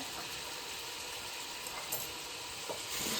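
Sliced onions with a little salt sizzle in a pan for chicken biryani masala, a steady close hissing fry with faint stirring scrapes and a few small clinks, no voices over it.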